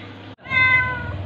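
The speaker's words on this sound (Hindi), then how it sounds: "बिल्ली जो है मेरे दरवाजे पे आ गई खुशबू सूंघते" A cat meows at a door, giving one clear, loud, drawn-out meow after a brief pause.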